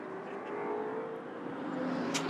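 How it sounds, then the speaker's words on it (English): GT race cars, including a Porsche, run in a sprint race on track, a continuous engine drone and whir heard from a distance, fairly steady with a slight rise near the end. "Liam kicking up the dust, and Yasser Shahin even more so in the OTR Porsche."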